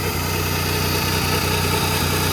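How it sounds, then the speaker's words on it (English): A tiny turbocharged three-cylinder engine in a 2005 smart Fortwo Passion idles steadily up close, with a low, even thrum and faint rhythmic pulsing. "But there's the engine running."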